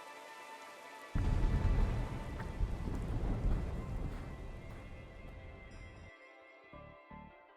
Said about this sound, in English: the rain stops as soon as we're finished walking in it